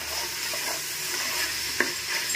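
Onion and tomato fry in a pan for a basmati chicken biryani, a steady crackling sizzle up close with light stirring and one sharp utensil tap near the end, no voices.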